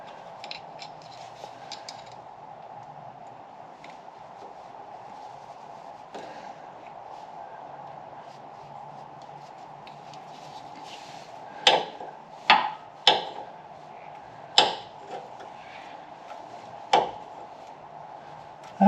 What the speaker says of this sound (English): I can wedge a screwdriver up into it to open it up.